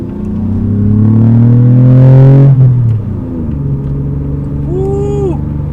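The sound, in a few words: Lexus ES250 engine and exhaust tone heard inside, windows up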